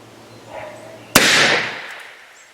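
A mini black powder revolver fires a homemade cap with 3F powder, giving one sharp, loud crack followed by a short rushing decay, with faint background noise before the shot.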